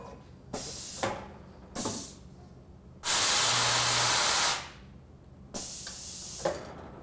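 Tormach automatic tool changer returning a tool from the spindle to storage: short pneumatic hiss bursts around a longer, loud blast of air lasting over a second, then another hiss, close and without speech.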